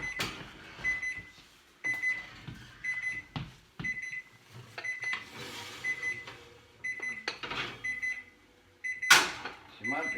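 An oven timer in a camper kitchen beeps in repeated short bursts of high tones, rising and falling in clusters amid clatter and handling noises.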